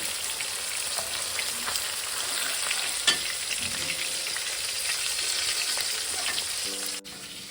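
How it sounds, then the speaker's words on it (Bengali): Pomfret fish fry in hot oil with a loud, even sizzle that fills the whole stretch, a sharp tap around the middle and a faint clatter near the end, no speech. "মাছগুলো আমি ভেজে নিয়েছি। এবার আমি মাছগুলোকে একে একে ছেড়ে দেবো।"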